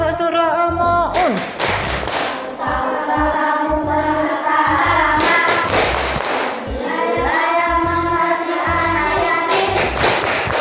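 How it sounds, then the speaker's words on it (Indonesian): A school class performs the Surah Al-Ma'un clap rhythm, with bursts of patterned group clapping and tapping mixed with children chanting together, loud and close throughout. "Tepuk surah Al-Ma'un."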